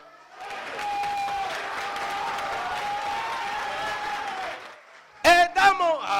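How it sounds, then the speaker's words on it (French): A comedy-show crowd bursts into sustained applause, a full steady round of clapping lasting several seconds before it fades and a performer starts talking again. "On applaudit!"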